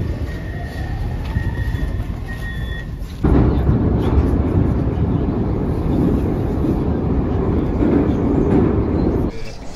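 A St. Petersburg metro train rumbles loudly as it accelerates from a station, a steady roaring rush of wheels and motor that swells and holds, with a faint squeal early on and no talk.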